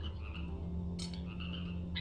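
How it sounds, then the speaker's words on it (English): A frog croaks in a video game, a single low throaty croak held under faint ambient game tones, close and clear with no speech. "I hear a frog."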